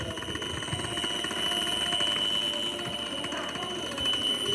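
A connected electric buzzer sounds continuously as one steady, shrill, slightly rattling drone at an even level throughout.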